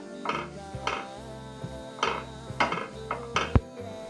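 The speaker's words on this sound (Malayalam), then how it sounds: "ക്യാരറ്റാണ് ഗ്രേറ്റ് ചെയ്തതാണ് ഇട്ടുന്നത് ഇതൊന്ന് വഴറ്റി കൊടുക്കണം" Grated carrot is stirred in a pan while sautéing for white sauce macaroni, with a spoon clinking and scraping against the metal in irregular taps, close and moderately loud.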